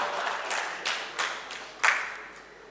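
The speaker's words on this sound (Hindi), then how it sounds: "इसलिए इनके लिए ताली बजा दो आप जोरदार" Audience applause at a book launch event, several short swelling bursts of clapping from a crowd, moderately loud and fading between waves, with no talk over it.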